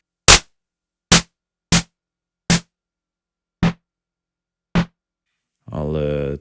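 Bursts of noise from an ARP 2600 clone synthesizer's noise generator come as six short, separate hits with silence between them, followed by a longer pitched synth tone at the end.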